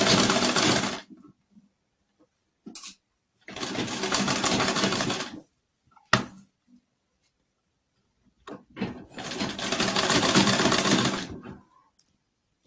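Three separate bursts of a close sewing machine stitching a blouse seam, each running a second or two with quiet pauses between, plus a few small clicks and taps in the gaps.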